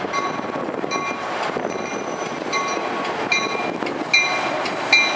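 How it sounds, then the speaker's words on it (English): A heritage train passes close by on the rails, with a steady rumble and rhythmic clicking of wheels over rail joints, plus bright metallic ringing tones that recur throughout and grow louder near the end. "That is one of Heritage trains."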